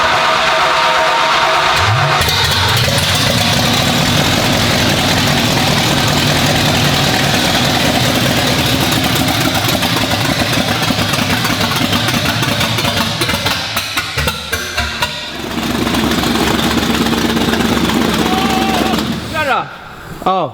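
A HighBoy hot rod engine idles loud and close with a rough, constant rumble that wavers and dips toward the end, as people talk beside it.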